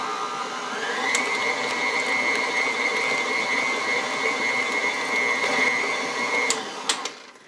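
Electric hand mixer beating cream cheese frosting, a steady high motor whine running for several seconds at a raised speed before cutting off with a few clicks.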